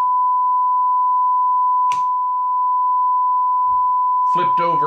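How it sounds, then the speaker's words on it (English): A steady 1000 Hz test tone from a USB DAC sounds as a pure, continuous beep throughout, with a short click midway and a few spoken words at the end. "let's start that tone. 1000 hertz tone on the"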